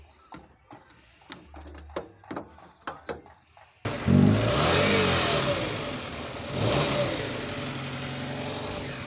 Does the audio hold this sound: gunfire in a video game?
no